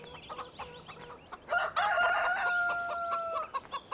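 Chickens in Farming Simulator, close clucking calls followed by a loud drawn-out rooster crow in the middle, with scattered bird calls around it.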